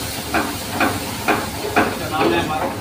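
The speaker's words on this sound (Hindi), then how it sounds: "डालिए ग्रेवी" White gravy hissing and sizzling in a hot pan in a home kitchen, with a steady loud frying hiss punctuated by about five rhythmic scraping stir bursts, while a person talks.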